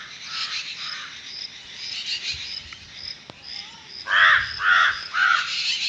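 Crows cawing around a hungry monkey, repeated harsh caws in quick bursts, several birds near and loud, growing busier toward the end over faint outdoor background.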